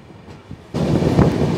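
A passenger train running from Howrah to Jagdalpur climbs slowly up a hill, its steady rumble and wheel noise swelling to a loud, continuous roar after a quieter opening.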